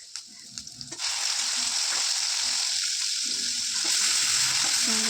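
Onion and chili paste fry in oil, a loud, steady hiss that starts after a second of quieter kitchen clatter and carries on alone to the end.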